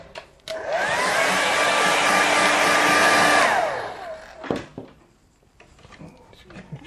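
Hair dryer drying a watercolour painting of a winter morning: a loud, steady blowing whir for about three seconds that then cuts off, followed by a few quiet knocks and near silence.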